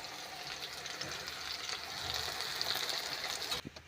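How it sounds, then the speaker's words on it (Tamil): Continuous bright sizzling and crackling of tempering spices frying in hot oil for eggplant kara kuzhambu, close up and steady, ending abruptly. "எண்ணெயில் வந்து இப்போ நல்லா பொரிஞ்சுது"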